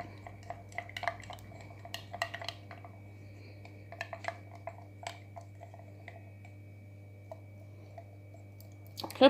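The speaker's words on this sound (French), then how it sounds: "Voilà, on remue. N'hésite pas, hein, on remue bien." A textured paste mixed with acrylic paint is stirred in a rounded pot, producing sparse, close clicks and scrapes over a low, steady hum.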